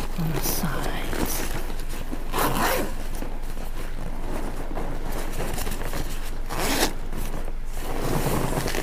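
A fabric zipper on the side of an earthquake readiness pack is pulled open in several close, loud rasping strokes, with soft whispering under the zips.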